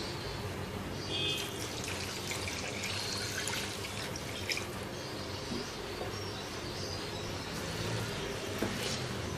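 Water pours steadily into a cooking pot, a soft continuous splashing hiss that stays even throughout with no talking.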